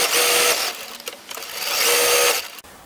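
A sewing machine stitches bunting fabric pieces in two quick, whirring runs separated by a short pause, close and fairly loud with no talking.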